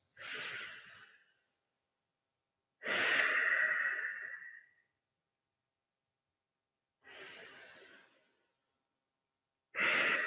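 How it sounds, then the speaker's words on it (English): Regulating breaths in a qigong breathing exercise: four separate breaths, close and moderately loud, each a long airy rush set apart by silent pauses, with no talk. "Let's take 2 regulating breaths."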